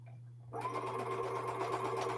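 A sewing machine runs steadily for about a second and a half after a brief quiet start, its close, even whir stitching jelly roll fabric strips onto a quilt four-patch.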